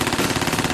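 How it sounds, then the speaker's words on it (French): An MP7 submachine gun fires in a rapid sustained burst at around 950 rounds per minute, a dense stream of loud, close shots with no talking. "Le MP7 est capable de tirer à une cadence infernale."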